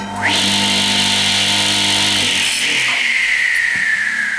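An electric Nuova Battipav VIP 290 tile cutter motor starts up and runs steadily, a loud whine that rises and holds with no talk over it.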